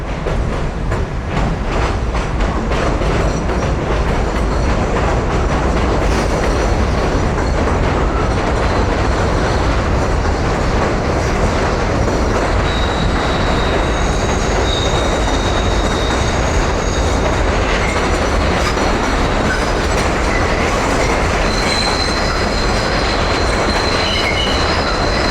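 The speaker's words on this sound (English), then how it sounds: "We ended with the train making the turn onto Stillwell." A subway train rolling through a curve onto Stillwell Avenue at 86th Street in Brooklyn, with a steady loud roar of wheels on rail and high-pitched wheel squeal rising and falling throughout.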